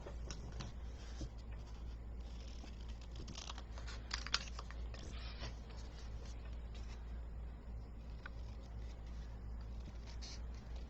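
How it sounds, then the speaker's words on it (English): Paper being cut into a tie shape for a handmade masculine greeting card, a steady run of soft, close, scratchy snipping and rustling, with no talking. "let's cut out our tie."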